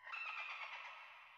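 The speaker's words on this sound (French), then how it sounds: "j'ai mis un sample de dauphin." A dolphin sample used in a lo-fi music production gives a bright, whistling, chattering call that holds steady for about a second and a half, then slowly fades, with no talking.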